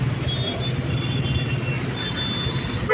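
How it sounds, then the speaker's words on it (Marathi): Road traffic noise from cars, a steady low rumble of engines heard from inside or near a vehicle, continuous and moderately loud with a faint high whine, no voices. "traffic guys, traffic"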